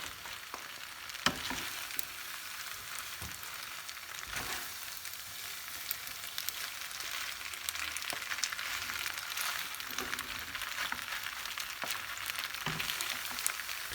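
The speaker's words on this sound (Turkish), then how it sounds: "Birazcık süre cızırdadığı zaman yetecek zaten." Salmon and cream sizzle steadily in a frying pan over raised heat, a dense, even crackle with occasional louder pops, close up and without voices.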